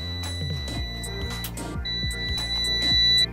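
A car anti-theft gadget beeps to warn that its button must be pressed before starting the car: a loud run of repeated electronic beeps with a sustained high tone near the end.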